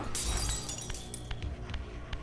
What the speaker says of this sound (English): That did break, right? You heard the glass?